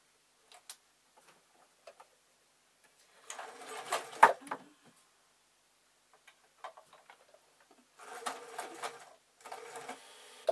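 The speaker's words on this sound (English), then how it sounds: "Couple of tacking stitches so that it's in place." A sewing machine puts in a couple of tacking stitches on an owl sewing project, quiet, short whirring bursts separated by pauses and small clicks.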